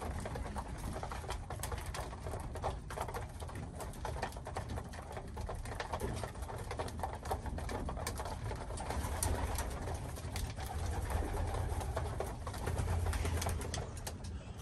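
Cooing pigeons fill a loft at feeding time, their low murmuring calls running continuously under scattered pecking and shuffling sounds, moderately loud and close, with no talking.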